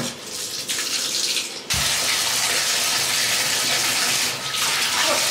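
Water runs hard from a tap into a tub for a dog's bath, a loud steady gushing that briefly cuts out and then resumes.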